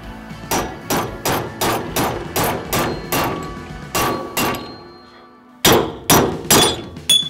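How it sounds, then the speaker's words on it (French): A hammer strikes a drift punch to drive out a rear wheel bearing race on a Volkswagen Polo. The blows are loud, metallic and evenly spaced, about a dozen in two runs separated by a short pause. "Frappez au marteau pour chasser la cage du roulement."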